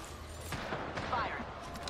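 Gunfire in an Apex Legends firefight, a quick cluster of sharp shots popping under a busy background of game noise.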